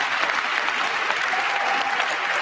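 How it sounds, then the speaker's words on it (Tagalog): Steady, dense applause from a large crowd at the Trump presidential inauguration ceremony, continuous and loud throughout with no pauses. "Pumalakpak si Harris"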